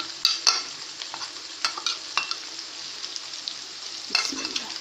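Cumin seeds, dried coriander, salt, chili and turmeric frying in oil in a pan, a close, steady crackling sizzle broken by scraping stirs from a spoon.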